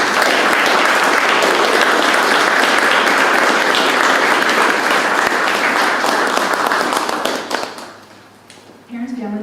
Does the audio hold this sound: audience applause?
yes